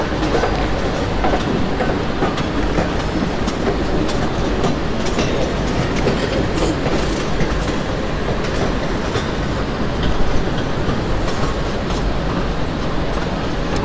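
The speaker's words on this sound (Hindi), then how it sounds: "Bhusawal Katni passenger departing from Bhusawal station." Simulated Bhusaval–Katni passenger train running in the Open Rails train simulator: a loud, continuous rumble of wheels and carriages with rhythmic clickety-clack over the rails, steady throughout.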